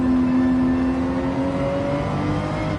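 Ferrari 458 race car engine in Gran Turismo 7 during a race: a sustained, loud, high-pitched whining drone as the car holds speed, its tone shifting slightly, with no talking.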